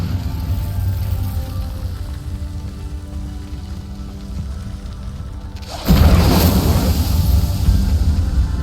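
A fire spell cast in a fantasy video game, a sudden loud whoosh and roar of flames bursting up partway through and then burning on steadily, after a quiet, low ambient rumble.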